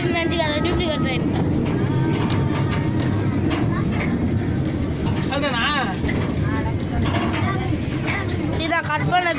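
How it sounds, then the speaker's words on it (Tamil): A toy replica train, not a real one, runs with a continuous rolling rumble and faint clickety-clack, partly buried under nearly constant voices of people talking nearby. "இது உண்மையான ட்ரெயின் நினச்சிக்காத, டூப்ளிகேட் ட்ரெயின்."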